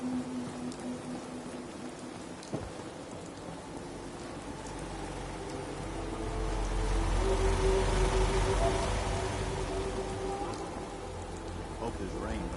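Rain falling in Fallout 4, a steady soft patter with a low rumble swelling midway, beneath faint game tones and distant effects.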